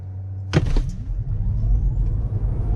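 A Tesla Model 3 Performance in track mode launches hard from a standstill with rear-wheel-drive bias, giving a sudden thump followed by a steady low electric whine and road rumble, heard from inside the car with no talking.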